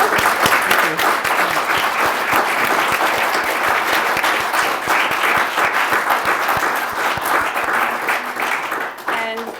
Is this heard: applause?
yes